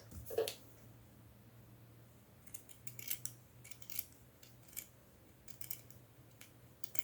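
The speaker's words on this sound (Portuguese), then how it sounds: "Agora é só recortar aqui em volta." Scissors snip around a sewn seam in fabric while a seal-shaped pet toy is being made, giving a sharp close cut first and then a run of lighter, irregular snips over a low steady hum.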